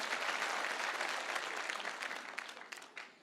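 A crowd applauds with dense, steady clapping that slowly fades out over a few seconds.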